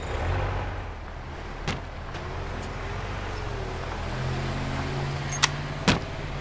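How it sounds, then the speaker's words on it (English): A skid steer engine in the video game Demolish & Build 3 hums in a low, steady drone, broken by a few sharp clicks and clanks near the end. "let me go ahead and jump back into the skid steer"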